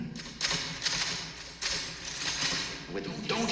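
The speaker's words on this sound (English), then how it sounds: "you hear me typing." Rapid typewriter keystrokes clack steadily at close range, with a few heavier strikes and thuds mixed into the busy, continuous rattle, and no voices over it.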